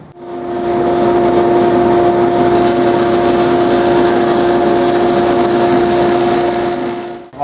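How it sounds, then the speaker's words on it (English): A power tool cuts a rabbet along the underside of a wooden piece for a small secretary desk: a loud, steady motor whine with a constant tonal hum, running continuously without pause or voices. "I've got that rabbet cut on the underside now"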